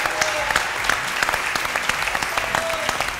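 A studio audience on a Ramazan iftar show claps after a semifinal result, a dense, even stream of applause with sharp individual claps standing out, steady and fairly loud throughout.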